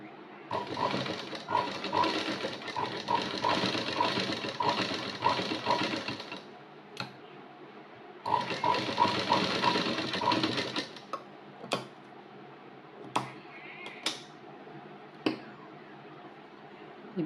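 An electric sewing machine stitches the front piece of a blouse in two sustained rapid bursts of several seconds each, close and fairly loud, followed by quieter handling clicks and knocks.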